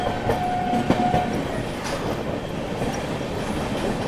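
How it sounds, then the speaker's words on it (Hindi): Sampoorna Kranti Express, the Patna Rajendra Nagar to New Delhi train, rumbles steadily past at a crossing, a continuous near roar of wheels and carriages with brief high tonal squeals early on. "पटना राजेंद्र नगर न्यू दिल्ली संपूर्ण क्रांति एक्सप्रेस आती हुई दोस्तों"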